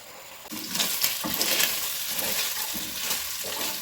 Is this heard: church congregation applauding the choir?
no